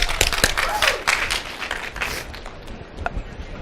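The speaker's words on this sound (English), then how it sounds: "Let's give a round of applause," Audience applause at a seminar, a burst of clapping that thins out over a few seconds.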